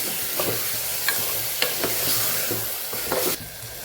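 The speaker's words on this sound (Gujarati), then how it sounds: "મસાલા સાથે શાકને સરસ સાતડી લેવાનું છે" A potato and pea curry is sautéed with masala in a hot pan, with a constant sizzle under a series of sharp spoon scrapes and stirring knocks at irregular intervals, close and fairly loud.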